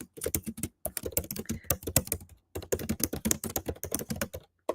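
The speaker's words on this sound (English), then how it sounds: "There you got some of your ASMR typing, since I know you guys love it so much." Fast typing on a computer keyboard, close and crisp, comes in dense bursts of clicking keystrokes separated by short pauses, with no talking.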